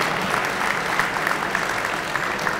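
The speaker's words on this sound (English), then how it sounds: "A warm round of applause for Father Sitaris and the children of St." Gala audience in a large room applauds a priest and the children of St. Basil's Academy, a full, continuous wash of clapping from many people with no voices over it.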